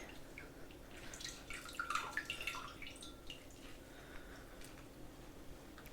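Water dripping and trickling during an ASMR medic wound cleaning, quiet close splashes clustered in the middle over a faint hiss, with no talking.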